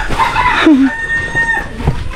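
A Chinese rooster gives a single loud, close crow with a rising and falling cry, followed by softer clucking-like noises against background sound.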